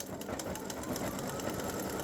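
A sewing machine stitches an appliqué design of a Christmas gnome boy with a candy cane, giving a steady, loud, fast mechanical whir with rapid needle ticks that runs unbroken throughout.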